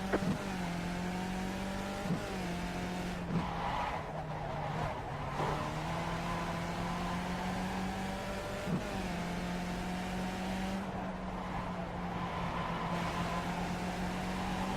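Skip Barber race car engine in the iRacing sim at Oran Park, droning steadily at high revs with brief dips at gear shifts, loud and continuous throughout without talk.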